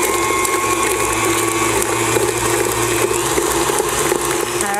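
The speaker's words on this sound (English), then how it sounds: "Now we'll give this another stir." A stand mixer beats peanut butter cookie dough with vanilla in a bowl, giving a loud steady mechanical whir and rattle that runs throughout without pause.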